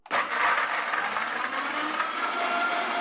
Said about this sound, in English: So now everything's in there, we're just gonna blend it all up